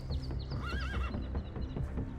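A horse whinnies in a small meadow as a mare is unloaded near a wild young horse, the neigh rising and falling over hoof clip-clop and steady outdoor background noise.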